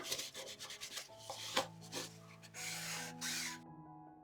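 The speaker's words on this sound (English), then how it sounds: "you can go over with a piece of paper towel. This will just remove any excess." Paper towel rubbed over a freshly stained wooden sled to wipe off excess stain, producing quiet close rubbing strokes in a steady rhythm, ending in silence.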